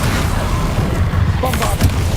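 The Incendio fire spell from Hogwarts Legacy erupts as a loud, rumbling whoosh of flame with deep booming bursts, sustained throughout and close, with a spoken voice briefly over the blaze.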